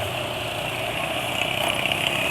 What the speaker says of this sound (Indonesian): Jadi Benelli Motobi itu paling enak suaranya ketika knalpot standar.